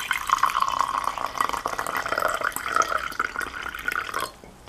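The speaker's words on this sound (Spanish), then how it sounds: "Y dejamos caer el agua" Water trickling and dripping into a mixture on white paper during a love ritual, a continuous close pour with splashy drips that stops abruptly near the end.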